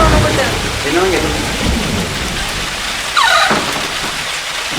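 Heavy rain pours at night with thunder, a loud steady wash of rainfall close by, with a brief squealing sound and a low rumble underneath.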